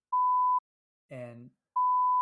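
Two steady censor bleeps sound alone, each about half a second, with a brief spoken word between them.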